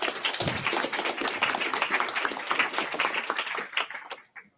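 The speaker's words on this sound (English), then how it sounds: "Let's welcome him with a round of applause." An audience applauds to welcome a speaker at a robotics talk, with dense, steady clapping that thins out near the end.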